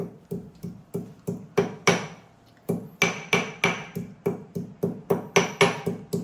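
Rhythmic pounding as a pot repeatedly strikes and crushes mangoes, steady thuds about three per second with a metallic edge, close by and with no talk.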